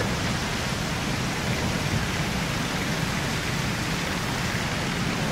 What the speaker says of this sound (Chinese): 越下越大， 太大了也， 怎么会这么大雨啊？